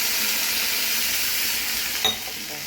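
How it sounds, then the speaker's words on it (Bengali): Hot water hits a hot cooking pan, giving a steady close sizzling hiss that softens near the end after a short clink of a utensil, with no talk. "এই গরম জল দিয়ে দিচ্ছি আমি।"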